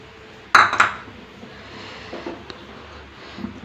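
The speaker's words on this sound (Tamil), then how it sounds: "நம்ம அரைச்சி வச்சுருந்த நிலக்கடலை இதில் சேர்த்துக்கலாம்" Ground peanuts added to thick caramel in a pan for crunchy candy, a sharp metallic clatter of spoon on pan at the start, then softer scraping and occasional clinks as it is mixed, close and without talk.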